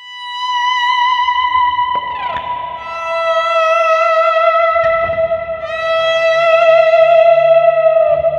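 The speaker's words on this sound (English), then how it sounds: "This is the lead swell sound." A sustained electric guitar lead note from an Axe-Fx III swells in with rich distortion and echo, bending down to a new pitch and ringing on with long, smooth sustain.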